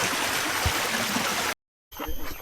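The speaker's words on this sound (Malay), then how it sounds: "first step point kita jumpa air sungai" River water streams along a forest hiking trail on a hill, a steady broadband rush heard up close, briefly cut off before resuming.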